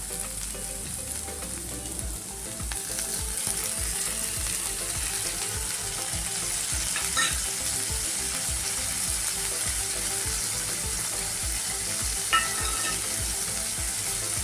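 Onion and tomato fry in a pan for Marathi papad bhaji, giving a steady close sizzle throughout with faint stirring clinks and no talk.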